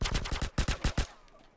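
A rapid burst of about eight AK rifle shots in Grand Theft Auto: San Andreas on PS2 rings out in an even, fast rhythm, loud and close, then cuts off into a short quiet tail.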